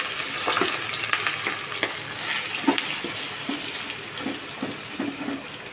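Masala boti meat pieces laid into hot oil, giving a steady bright sizzle with small crackles and soft thuds as each piece goes in, close and continuous.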